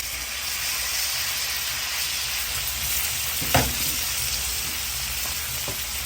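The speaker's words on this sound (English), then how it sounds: "All right, let's add our shrimp back to the pan." Shrimp sizzle in a pan of garlic butter with a steady, close frying hiss and a single utensil clank midway.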